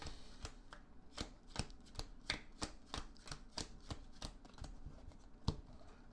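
A deck of playing cards for the Hero Realms deck-building game is being shuffled: quiet, close, rhythmic snaps and riffles repeating about every half second, with no talking.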